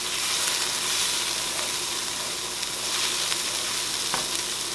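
Vegetables coated in spices sizzle loudly in a hot pan while being stirred, a continuous bright crackle with occasional scraping stirs, close and unbroken, with no voices.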